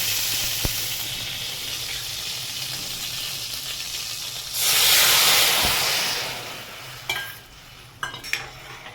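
Ragda simmers and sizzles in an oiled kadhai, a steady frying hiss interrupted by a louder surge of steam midway, with a few stirring clinks toward the end and no talk.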